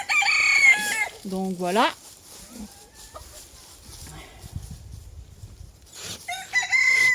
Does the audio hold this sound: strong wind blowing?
no